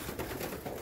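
A racing pigeon, back from a 100 km flight, gives a brief, soft coo close by that lasts under a second.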